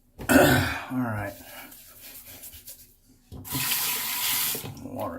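Water runs from a sink tap in two bursts while a head is rinsed after a shave. Throat clearing and a cough sit in between, close up.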